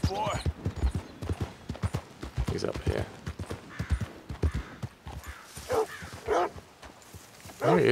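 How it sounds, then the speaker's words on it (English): Dog barking in Red Dead Redemption 2 alongside clip-clopping horse hooves, with a voice talking over the scene and the barks mixed in at mid distance. "We'll hear the barking or something, surely."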